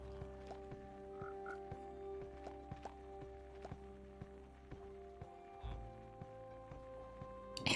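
Frog croaks from the Minecraft modpack FTB Skies, a string of short clicky croaks repeating irregularly over a steady humming game background, with a louder thump near the end.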